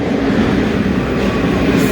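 A metro train pulls into a station with a loud, steady rolling rumble and rattle that fills the whole stretch, with no voices.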